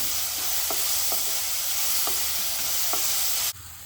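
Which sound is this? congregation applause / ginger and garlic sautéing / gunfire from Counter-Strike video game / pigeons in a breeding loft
ginger and garlic sautéing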